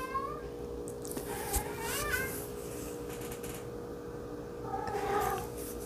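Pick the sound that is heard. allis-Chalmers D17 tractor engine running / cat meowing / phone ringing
cat meowing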